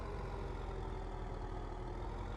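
Steady low rumble of a tractor engine idling in Farming Simulator 15, constant and even, quiet and alone without any voices.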